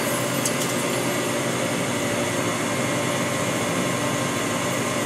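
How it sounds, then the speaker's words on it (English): A 2005 Mori Seiki NL 2500 CNC lathe spindle running at 500 RPM gives a steady, even mechanical hum and whir with no pauses or talk. "now let's go to the spindle. Let's go 500 RPM."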